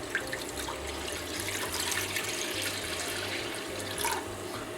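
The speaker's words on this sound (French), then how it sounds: "je vais mettre de l'eau" Tap water runs steadily into a cooking pot on the stove for about five seconds, a continuous close hiss and splash with no talking.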